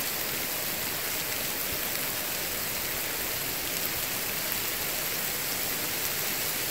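Steady rain hissing on a surface, a constant wash of noise with no pauses and no voices.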